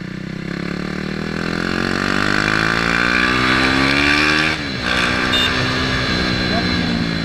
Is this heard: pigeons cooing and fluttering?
no